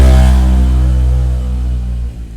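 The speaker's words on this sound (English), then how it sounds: "Louder the motorbike, dumber the operator." A loud motorbike engine revs close by, a strong low harmonic drone that begins at full volume and slowly winds down and fades over a couple of seconds.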